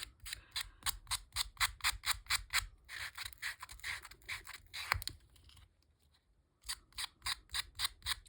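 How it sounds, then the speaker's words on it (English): Scissor blades scrape along paper edges to rough them up, a fast series of regular rasping strokes up close, pausing briefly before the rhythmic scraping resumes, with no talking. "You can also rough up with your scissors."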